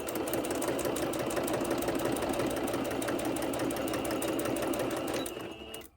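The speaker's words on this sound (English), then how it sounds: "I'll sew all around the inside edge just to make sure that nothing moves out of place" A sewing machine stitches through plastic in a steady, close mechanical whir that holds constant for several seconds and then winds down at the end. No one speaks.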